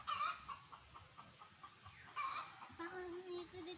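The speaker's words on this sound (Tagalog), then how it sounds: "manukan" Chickens cluck and call softly at a poultry farm in the Philippines. The clucks are faint, brief and scattered against quiet background noise.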